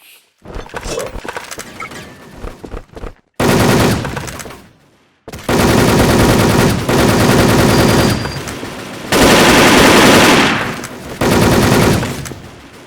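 Video game gunfire in rapid automatic bursts, several long loud volleys separated by short silences, up close and filling the sound, with no talk over it.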